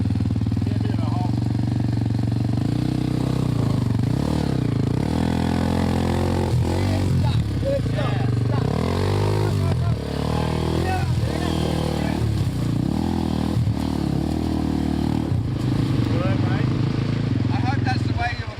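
An old XR dirt motorcycle is ridden over a rough, holed trail toward Angkor, its engine droning steadily and loudly throughout, with varying revs and occasional clatter while people talk over it.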